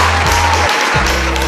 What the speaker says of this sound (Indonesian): pesantrennya tepuk tangan dulu lah